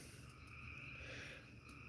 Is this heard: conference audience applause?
no